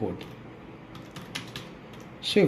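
Keyboard keys tapped while entering a SWIFT code during a Google Pay bank account setup, a quiet, uneven run of soft clicks over a faint room background.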